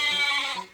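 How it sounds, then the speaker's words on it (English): Sheep bleating in one short, fairly loud wavering call that fades toward the end, with no talk over it. "Do you guys know what sound sheep make?"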